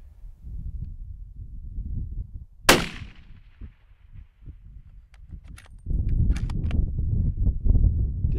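A single sharp rifle shot cracks out midway during a hunt, decaying quickly over a low rumbling outdoor background, followed by faint knocks and louder rustling handling noise.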